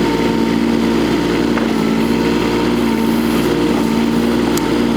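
A Kubota U10-5 mini excavator digs with its small engine running at a steady, buzzing drone, close and constant, with faint clanks of the bucket scraping.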